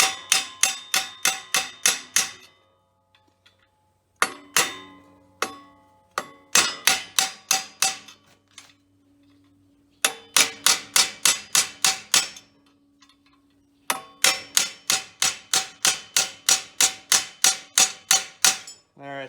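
Repeated metal hammer blows on a bolt used as a makeshift punch to drive a gear shaft out of a J&M gravity box, falling in rapid rhythmic bursts with short pauses between sets, loud and close, with no talking.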